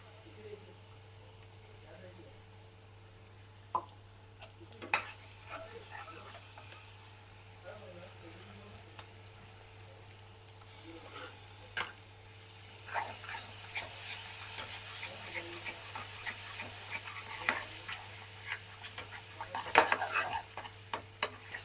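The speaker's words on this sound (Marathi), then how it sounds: "आपण आता ते थोडंसं भाजून घेऊ, म्हणजे प्रॉपर तेलामध्ये" Coconut masala roasting in oil, stirred by hand in a pan: a low, quiet sizzle with sporadic utensil clinks that grows busier and louder toward the end, under a steady background hum.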